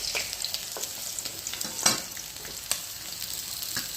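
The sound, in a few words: fish frying in a pan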